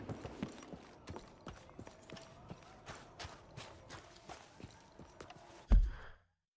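Horse hooves clop along at a steady walking pace in Red Dead Redemption 2, quiet and fairly distant, with a louder thud near the end before the sound cuts out.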